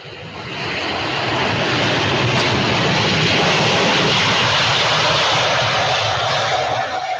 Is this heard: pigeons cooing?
no